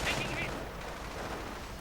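A video-game MG42 machine gun fires a brief burst under steady battle noise, faint and a little distant.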